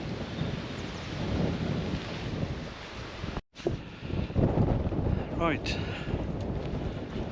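Wind buffets a microphone outdoors near an old barn, a loud, steady rumbling roar that cuts out briefly and then returns, with someone speaking over it.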